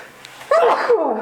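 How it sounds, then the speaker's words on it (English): One person sneezes once, a short sharp burst after a brief breathy build-up, close and fairly loud in a quiet indoor room. "Oh no, I need to sneeze again."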